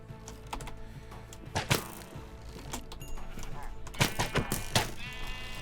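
Sheep bleating in the video game Minecraft, a few short bleats rising over game noise and clicking with a voice talking over them.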